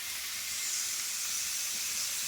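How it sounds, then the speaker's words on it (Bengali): Cauliflower and green chili frying in hot oil, a steady, close sizzling hiss that holds evenly throughout with no pauses and no talk. "দিয়ে আমি এটা ভেজে নিচ্ছি"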